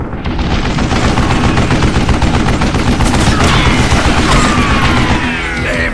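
Sustained, loud machine-gun fire from an old mounted gun, a dense continuous burst with heavy crashing texture that tails off slightly near the end, with no clear jam heard.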